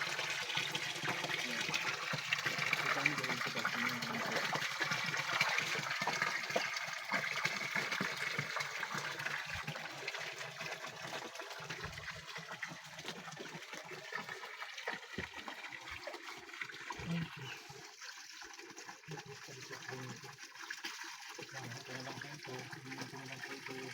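Water from a natural spring pours in a steady, dense rushing flow that holds up throughout, close and moderately loud, with a few faint thuds and bumps but no clear talk.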